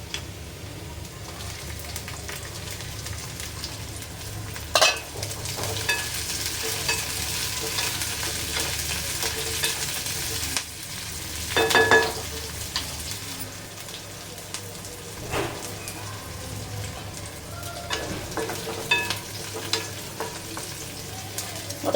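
Green chillies frying in hot oil for a traditional shepu-methi mixed vegetable dish, with steady close sizzling throughout and several louder bursts and scrapes as a spoon stirs them in the pan.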